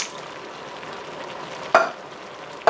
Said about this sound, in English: next I'm going to add a can of diced tomatoes.